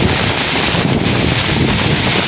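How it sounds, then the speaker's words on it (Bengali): Loud, steady wind roars and buffets against the microphone during a sudden storm with rain, a constant rushing noise with no voices. "কি বাতাস রে"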